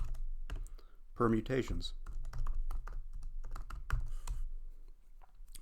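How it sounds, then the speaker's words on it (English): Computer keyboard typing, a rapid run of light clicking keystrokes, close and clear, under a voice speaking. "so I'm going to type in Geeksforgeeks, multiple"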